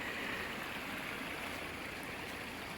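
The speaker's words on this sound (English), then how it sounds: "you always hear the water running" A stream runs across a one-acre camp property. A faint, steady hiss of flowing water continues throughout, with no voices.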